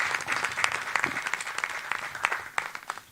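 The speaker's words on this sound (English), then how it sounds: "round of applause for" Audience applause at a rehearsal of a Broadway-style musical at a university humanities faculty in Port Harcourt, a dense burst of many hands clapping throughout, fairly close and steady with sharper individual claps standing out.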